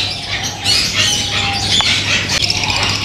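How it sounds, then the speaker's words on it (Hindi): Orange-winged Amazon parrots at a Sunday bird market give loud, harsh squawks, with a couple of sharp calls standing out over a steady background of other birds and market noise. "ये ऑरेंज विंग अमेज़ॉन है"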